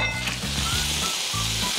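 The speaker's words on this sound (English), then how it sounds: "so as I add the chicken, Edward, do you just want to stir it around?" Chicken and chorizo sizzle steadily in a paella pan as they are stirred, a close, continuous frying hiss with low scraping pulses from the stirring throughout.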